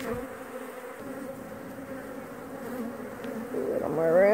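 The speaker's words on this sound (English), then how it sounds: "They're working pretty hard on the comb." Honeybees buzzing on comb frames inside an open hive, a steady droning hum close by, swelling louder toward the end with no talk.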